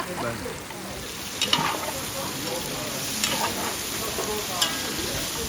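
Onions frying in a pan for a Réunion-style dish: a steady sizzle with a few scraping stirs, close and moderately loud, while people talk in French.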